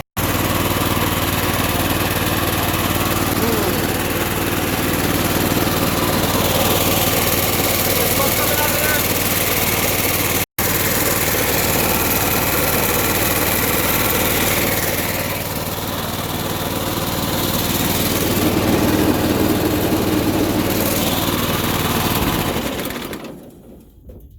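An old Sears lawn tractor runs steadily with its mower deck engaged, the engine drone loud and continuous with a slight dip in the middle before it cuts out at the end; a belt is rubbing and smoking on the pulley.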